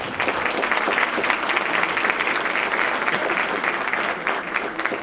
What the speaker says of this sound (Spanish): Despidámoslos con un fuerte aplauso.